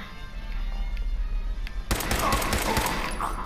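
Video game gunfire: quieter shots at first, then a dense burst of rapid, loud shooting that fills the second half.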